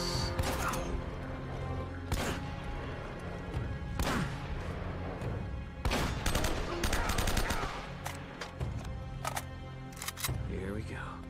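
Gunfire in Uncharted: Drake's Fortune, with repeated sharp shots and short bursts scattered across the stretch over a busy game soundscape, loud and fairly close, with a voice talking at moments.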